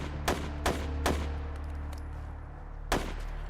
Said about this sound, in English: Can you hear the gunshot?